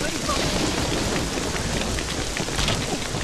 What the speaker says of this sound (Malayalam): നല്ല മഴയുടെ ലക്ഷണമുണ്ട്